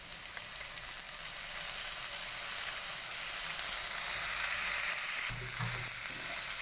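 Ginger-garlic paste sizzles with onions and green chillies in a frying pan while soya masala cooks: steady, bright frying crackle throughout, with brief stirring clatter near the end.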